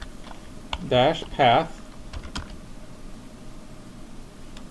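Command typed on a computer keyboard while patching an offline Hyper-V disk, a few scattered key clicks after a short spoken word, otherwise quiet.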